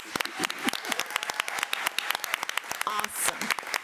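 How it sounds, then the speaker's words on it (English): A small group claps with distinct, uneven hand claps at a school board meeting, fairly close, with a few brief cheers rising near the end. "Let's give Jessica another round of applause"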